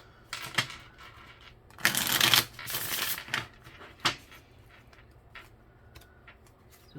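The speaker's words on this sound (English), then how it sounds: "So one more shuffle here for Gemini." Tarot cards are shuffled by hand in two loud riffling bursts, followed by softer taps and card handling in a quiet room.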